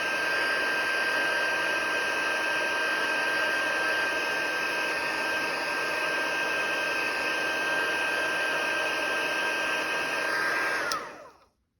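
A heat embossing tool blows hot air onto embossing powder with a steady, loud whooshing roar, like a small hair dryer, holding constant for about eleven seconds before switching off and winding down.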